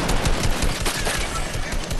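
Fortnite gunfire rattles in dense, rapid automatic bursts with overlapping shots, loud and close throughout, with no pause or talk.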